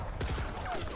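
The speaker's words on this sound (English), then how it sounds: "Oh boy, there's shooting." Gunfire in Batman: The Telltale Series, a short burst of several rapid low thumping shots packed into about a second, loud and close with a faint voice in the mix.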